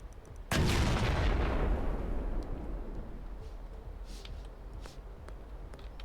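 A sudden loud boom with a rumbling tail that slowly fades into a steady background hum, a single explosion heard up close in the video game Schedule I.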